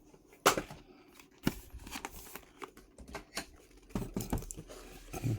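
Packaging for an HONOR Pad 10 Smart Keyboard is handled and opened up close, with scattered taps, clicks and crinkles in uneven bursts, fairly quiet overall.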